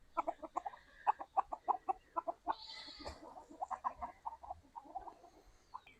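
Hen and rooster clucking steadily up close in a farmyard, a rapid run of short, punchy clucks with one brief louder squawk partway through, continuing alone without talk.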